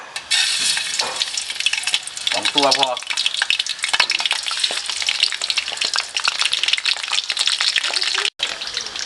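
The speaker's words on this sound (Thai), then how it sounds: "ทอดปลาด้วยไฟกลางเกือบอ่อนนะครับ" Steady, crackling sizzle of snakeskin gourami frying in hot oil over medium-low heat, loud and continuous, with a brief voice speaking early on and a short break near the end.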